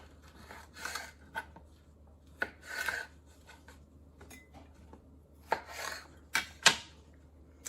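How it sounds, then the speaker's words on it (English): A knife cuts cucumbers lengthwise into quarters for refrigerator dill pickles, making scattered close knocks and scrapes against a cutting board with quiet gaps between strokes. "So I'm just going to cut them in quarters lengthwise."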